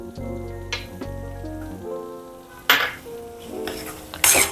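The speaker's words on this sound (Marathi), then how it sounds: "आता हे आपण अजून एक अर्धा मिनटं परतूया" Egg curry masala sautés in a pan with a soft sizzle, punctuated by several sharp scrapes and clatters of a spatula stirring against the metal.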